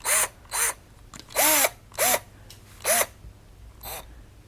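Black + Decker brushed combo drill running in five or six short bursts, each a loud whine that rises and falls in pitch as the trigger is squeezed and released, with brief pauses between.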